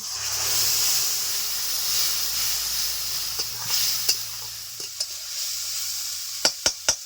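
Spice water with crushed ginger poured onto fried onions in a pan for a Bengali rohu-and-pointed-gourd fish curry gives a loud, steady sizzling hiss that gradually eases, followed by a few sharp clicks of a utensil.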